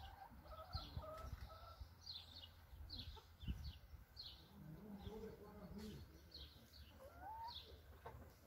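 Chickens on an Austrian farm cluck and squawk in short repeated bursts, fairly faint and close, with some wing flapping amid quiet background noise.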